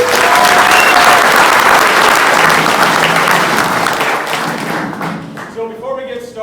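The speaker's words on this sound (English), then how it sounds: "So, round of applause for" Audience applause fills a meeting hall, dense and loud clapping that gradually thins and fades toward the end, with a few voices emerging as it dies down.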